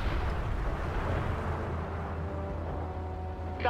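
Artillery strike explosions in the World in Conflict game roll together into a heavy, continuous low rumble that fills the whole stretch without easing, with a faint tonal drone emerging toward the end.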